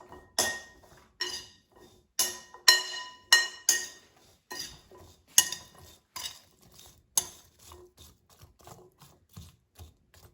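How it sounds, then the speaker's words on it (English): Sweet potato fries being tossed with oil, salt, pepper and seasonings in a bowl, giving a series of rhythmic scraping, clinking stirs at close range that slowly fade toward the end, with no talking. "And now let's mix it. So the sweet potato fries are evenly coated with oil and seasonings."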